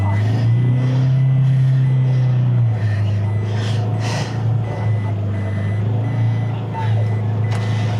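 A truck with its rear wheels spinning in deep mud, steady reversing beeps over a loud droning engine, with people talking nearby.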